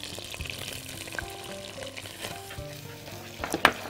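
Onion frying in a pan, a close crackling sizzle with brief spoon scrapes and a few louder clinks near the end.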